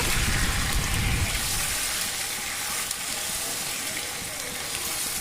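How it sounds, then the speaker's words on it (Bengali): Chicken pieces frying in a pan over tempered spices, giving a loud, dense, continuous sizzle with a heavier crackle at the very start. "এবার আমি চিকেনগুলোকে দিয়ে দিলাম চিকেনগুলো একটু ভাজা ভাজা করে নেব"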